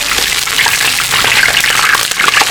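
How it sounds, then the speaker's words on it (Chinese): Small crucian carp hit hot oil in a wok, giving a loud, dense sizzle and hiss that stays continuous and close throughout. "小鱼下锅"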